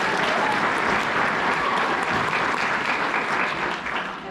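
An audience at a college recruiting coaches panel applauds a panel speaker, giving steady, dense clapping that stays loud and continuous throughout before easing slightly at the end.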